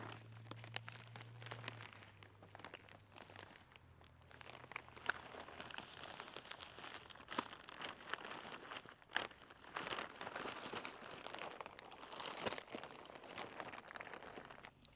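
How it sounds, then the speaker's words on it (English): Sides of a fabric grow bag being folded down before filling with soil for planting sprouted potatoes, a close, continuous crinkling and rustling of cloth with a few sharper scrapes, no talk. "I like to fold the sides down until I get it full."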